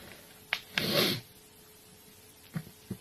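A sudden sneeze-like burst of breath, loud and brief, after a couple of short sharp clicks, followed by quiet and a few faint taps.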